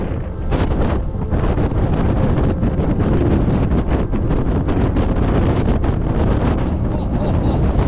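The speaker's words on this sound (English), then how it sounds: "It is very blustery, very, very blustery." Strong gusting wind roars across the exposed moorland summit of Higher Shelf Stones in the Peak District, reaching around 64 mph, buffeting the microphone loudly and continuously with no let-up.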